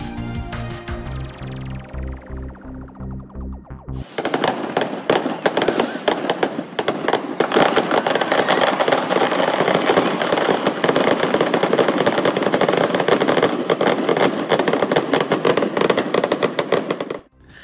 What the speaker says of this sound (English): The fireworks are right outside of the casino.